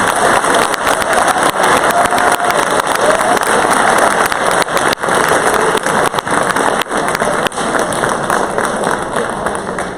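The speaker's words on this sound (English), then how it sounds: "Let us give one more big round of applause to the senior class of 2019." Big round of applause from a high-school audience at a senior scholarship ceremony, a loud, dense, sustained roar of clapping with crowd noise, continuous for the whole stretch.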